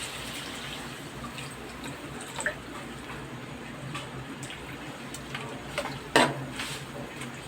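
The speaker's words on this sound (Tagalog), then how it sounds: "Tapos maglalagay na po ako ng tubig para lumambot pa siya." Water poured into a pan of adobo chicken intestines, a soft steady pouring and bubbling wash with a few small clinks and one sharper splash near the end.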